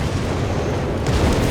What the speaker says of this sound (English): There we go, Whizbang Barrage, hoping to get lucky more than anything